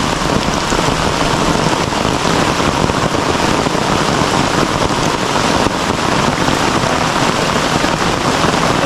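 Heavy rain pouring onto a camp shelter set up outdoors, a loud, dense and constant patter and hiss of drops drumming on the covering, without pauses or voices.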